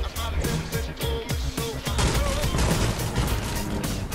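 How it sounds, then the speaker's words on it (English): Fortnite gameplay with dense, continuous bursts of gunfire and a blast, loud and busy throughout, with layered impacts mixed under game sounds. "whose explosion was that?"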